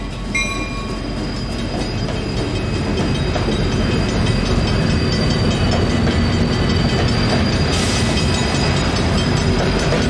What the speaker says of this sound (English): First train of the year.